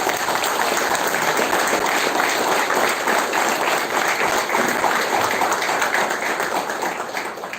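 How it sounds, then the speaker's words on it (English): A conference audience at ISGAPU Con 2024 in Puducherry gives a big round of applause, continuous full clapping from a large hall that barely fades toward the end. "I request all the audiences to give a big round of applause."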